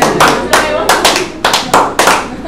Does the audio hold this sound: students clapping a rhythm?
yes